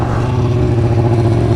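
Motorcycle engine held high around 5,000 rpm during a wheelie, a loud, steady droning rev close by with a faint clatter over it and no pauses.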